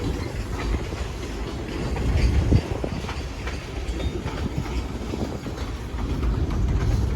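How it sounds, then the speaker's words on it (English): A BMP freight train rolling past on the railway at Lake Avenue in Blasdell, New York, loud and close, with a continuous rumble and rhythmic clickety-clack of wheels over rail joints and no talking. "this is the end of the BMP train"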